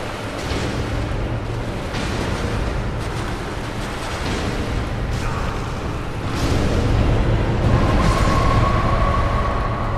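Deep rumbling blasts roll continuously through a Dark Souls battle, broad and boomy with a swelling surge toward the end, with no talk over them.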